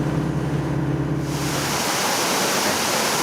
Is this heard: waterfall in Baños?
yes